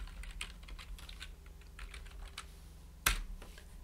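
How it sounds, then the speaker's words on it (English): Keys clatter on a computer keyboard while a command is typed into a command prompt, a quiet run of quick taps ending in one sharper keystroke. "In our command prompt, we simply need to type in Ionic start."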